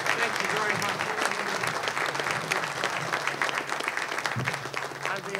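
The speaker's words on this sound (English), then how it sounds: "Let's give a round of applause." Sustained applause from a City Club audience for Andrew Velasquez of the Illinois Emergency Management Agency, dense, even clapping throughout with faint crowd murmur beneath.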